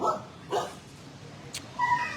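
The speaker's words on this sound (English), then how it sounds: "You are just a barky, barky dog." At an animal shelter, a dog lets out a few short yips and barks mixed with a thin high whimper, close and intermittent against a quiet background.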